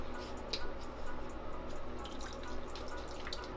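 Liquid poured into a pressure cooker for beef brisket makes a steady, trickling flow with small splashy ripples, running continuously at close range with no talking.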